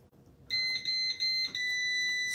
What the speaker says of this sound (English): that's my car alarm going off that someone's either coming or going